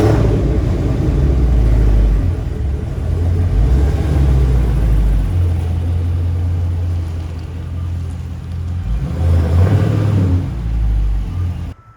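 A Dodge Charger Scat Pack engine rumbles loudly and close, idling then revving as it pulls away, a deep steady growl throughout.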